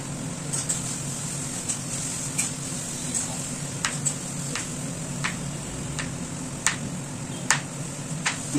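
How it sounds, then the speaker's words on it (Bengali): Chicken pieces frying in a pan for chilli chicken, giving a steady soft sizzle with scattered sharp clinks and taps of a utensil over a low kitchen hum. "মৌলি ওদিকে চিলি চিকেনের যে চিকেন ভাজতে হয় সেটা করছে।"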